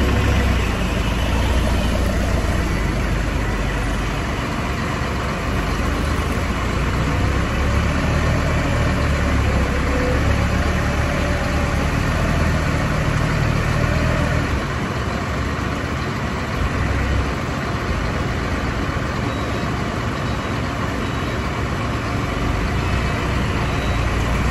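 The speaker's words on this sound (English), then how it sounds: "now it's time for the big boy roller" A large road roller's heavy diesel engine idles steadily, a loud, constant low rumble that runs unbroken throughout with no talking above it.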